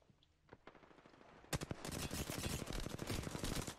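A Peacekeeper shotgun in Apex Legends fires during a match: a few scattered shots first, then a dense burst of overlapping gunfire that rises loud and stays sustained to the end.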